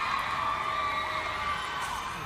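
An arena crowd at an MPL Philippines esports match cheering and screaming, a sustained loud wash of high-pitched shouts and whoops, steady for the whole stretch.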